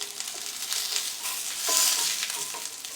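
Crab cakes sizzle and crackle steadily in a frying pan, with soft scraping and pressing sounds as they are flattened lightly, close and fairly quiet throughout.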